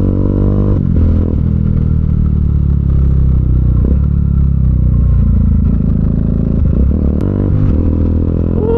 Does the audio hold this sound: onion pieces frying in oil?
no